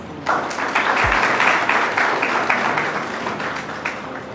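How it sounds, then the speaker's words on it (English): A conference audience breaks into a dense round of applause that holds steady for several seconds, fairly close and loud, with no talking over it. "please welcome Mushtaq sir with a huge round of applause"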